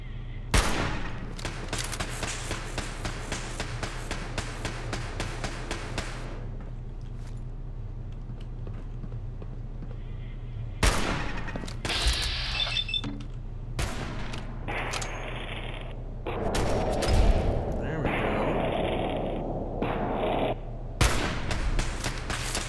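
Automatic turret fire in Fallout 4, rapid bursts of gunshots, loud and close, broken by pauses and scattered impacts, with no talking.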